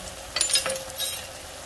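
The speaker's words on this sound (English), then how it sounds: "I'm just going to mix and keep browning until you get a beautiful crust at the bottom of your pot" Beef for carne guisada sizzling and browning in a pot as it is stirred, a close, steady fry with a few scraping swirls of the spoon, no talking.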